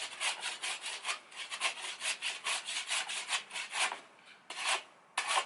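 An oak axe handle is ground down by hand to fit, with steady, rhythmic rasping strokes of a file on wood, several per second and close, pausing briefly near the end before a final stroke.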